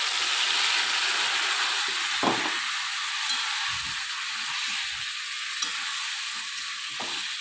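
Ginger, cumin and tomato fry in a pan with a steady, close sizzle, and a few soft stirring knocks and scrapes occur through the sound.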